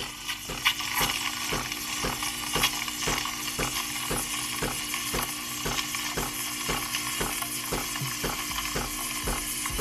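A Breville espresso machine's steam wand tears and stretches milk in a pitcher into microfoam, giving a steady, close hiss with a faint rapid ticking running through it and no pauses.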